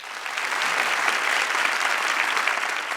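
Sustained audience applause fills a hall at a graduation ceremony, a dense, steady clapping of many hands, loud and close, with no pause over its length.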